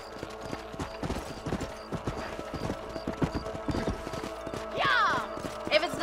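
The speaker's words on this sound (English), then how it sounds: "Monte no seu cavalo. Voltar pro cavalo novamente." Horse hooves clip-clop at a steady rhythm in Red Dead Redemption, with a short whinny partway through and game sounds in the background.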